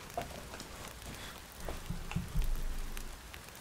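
Steady rain falling in The Witcher 3 video game, a soft continuous patter on surfaces with a few louder drops, alone without talk.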